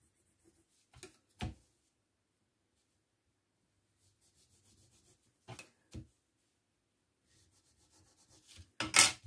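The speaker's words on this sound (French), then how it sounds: "Vous pliez jusqu'à votre petit repère" Paper is folded and creased by hand for a hexagonal Christmas box: a few short, crisp, close rubs and swipes separated by long silences, with a louder sharp crease at the end.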